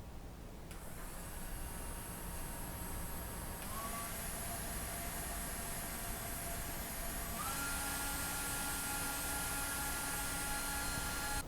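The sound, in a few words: portable capsule fan running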